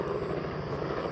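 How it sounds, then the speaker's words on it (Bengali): A steady, loud rotor-and-engine drone from a red helicopter passing close overhead fills the air without a break, in Sreemangal. "লাল কালার, ওই যে হেলিকপ্টার,"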